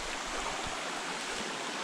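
Stream water rushing steadily at a river crossing on the Owl's Head hike in New Hampshire, a broad continuous wash of flowing water close by, with no talking.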